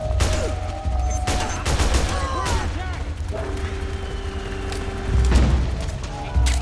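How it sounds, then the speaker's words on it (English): Bursts of gunfire and booms in the video game Metal Gear Solid 4, rapid shots and impacts layered with tonal game sounds and voices talking over the action. "I heard gunfire!"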